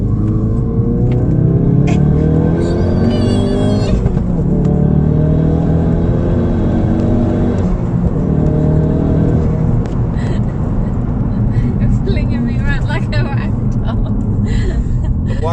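A Ford Focus RS Mk3 pulls hard out of a corner, its engine rumbling and rising in pitch inside the cabin while people talk over the drone.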